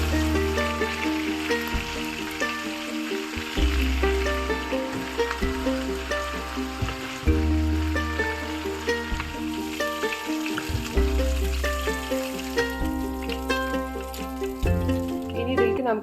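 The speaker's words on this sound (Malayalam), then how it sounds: "ഇനി ഒരു പാനിൽ എണ്ണ ചൂടാവുമ്പോൾ ഈ പ്രോൺസ് നമുക്ക് ഫ്രൈ ചെയ്തെടുക്കാം" Prawns fry in hot oil in a pan, a continuous sizzle that sits under steady background music throughout.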